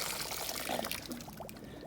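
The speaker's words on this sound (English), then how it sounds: "let's add a little bit more water to this" Water poured from a container onto potting soil while up-potting a grafted Jan Boyce avocado tree, a steady close splashing pour with soft trickles throughout, no talking.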